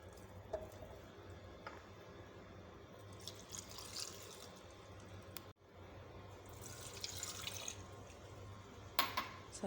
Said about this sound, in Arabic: دابا غادي نضيف لهم كل قرعه غادي نضيف لها كاس صغير ديال الخل